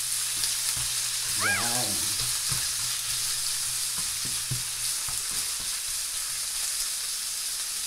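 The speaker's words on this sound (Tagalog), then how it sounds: "I gonna put this pork now. So yung thinly slice na pork." Thinly sliced pork sizzles and fries in a pan with red onions, a steady close hiss running throughout, broken by a few stirring clicks, with a short voice at the start.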